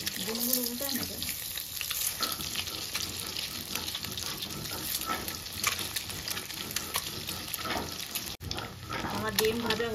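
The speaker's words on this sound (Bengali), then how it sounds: "আমার ডিম ভাজা হয়ে গেছে," Eggs fry in a pan with a steady close sizzle, joined by stirring and scraping, while a person talks over the cooking.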